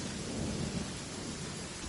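Steady heavy rain with rolling thunder from a Genshin Impact storm, a dense continuous wash with low rumbling swells throughout, no voices.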